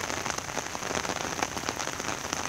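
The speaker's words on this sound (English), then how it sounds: "It's raining like cats and dogs" Heavy rain pours steadily in Chattanooga, a dense hiss of drops drumming on surfaces close by, with no voices.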